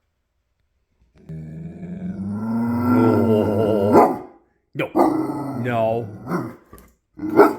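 A dog growls and snarls in long, rumbling bursts close by, with a short bark-like outburst near the end, while a person speaks over it trying to calm the animal.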